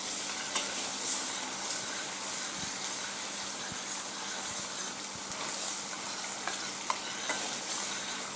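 Pizza tomato sauce bubbles and sizzles in a pan, a soft continuous simmer broken by small pops and occasional stirring clicks, close and fairly quiet.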